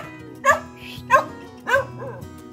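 Three loud, close dog barks come at a steady pace, each a sharp single woof with a brief trailing whine, over a low background hum.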